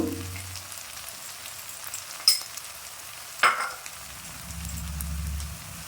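Turmeric and chili powders fry in hot oil for a spicy Bengali Mourola sea-fish curry, a soft, steady sizzle with two sharp utensil clinks partway through and a low rumble near the end.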